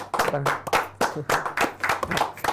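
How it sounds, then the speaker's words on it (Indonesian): A talk-show audience applauds two badminton doubles players, with loud dense clapping throughout and voices mixed in underneath. "boleh tepuk tangan Woi semua"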